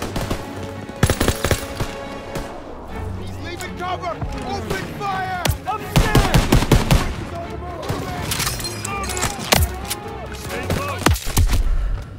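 Machine gun fire in the Call of Duty WWII game, dense bursts of rapid, loud shots with booms, running continuously under shouted voices and battlefield commotion.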